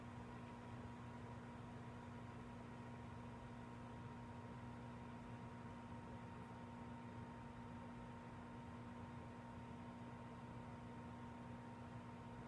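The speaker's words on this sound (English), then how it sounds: "and then we put them in the microwave," A microwave oven runs with a marshmallow inside, a steady low electrical hum with a constant drone and faint hiss, unchanging and quiet throughout with no talk.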